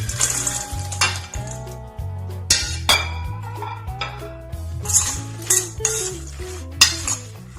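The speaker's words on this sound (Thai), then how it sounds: "เราก็จะนำตัว โปรตีนเกษตรที่เราทอดไว้นะครับ ลงมาคลุกเลย" Fried textured soy protein being tossed through melted sugar dressing in a pan for a vegetarian fried-pork-style salad, with repeated clinks and scrapes of utensils against the cookware over a low music bed.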